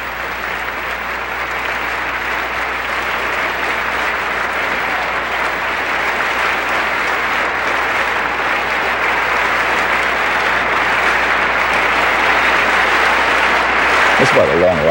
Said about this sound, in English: It's about a long round of applause for President Aquino